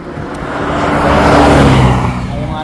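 Traffic on a suburban South Australian street, with a car swelling in as a loud, close whoosh that peaks midway and then eases off, and no talking.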